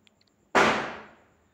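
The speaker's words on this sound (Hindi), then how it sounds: "देखिए कुछ पटाखा का आवाज़ सुनाई दे रहा होगा।" A single firecracker bursts outside with a sharp bang, followed by a fading echo that rings out for nearly a second; a few tiny ticks precede it. Diwali season.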